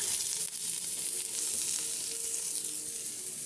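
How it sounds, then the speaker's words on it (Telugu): Onion and green chillies fry in hot oil for an omelet, making a steady, bright sizzle that holds at an even level throughout, close and without voices. "ఆనియన్, పచ్చిమిర్చి ఫ్రై చేసుకొని"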